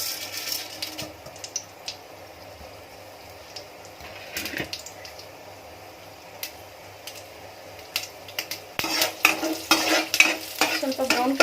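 Mustard seeds and urad dal fry in hot oil, a soft continuous sizzle with scattered crackles and pops that grow louder and denser toward the end, accompanied by stirring scrapes in the pan.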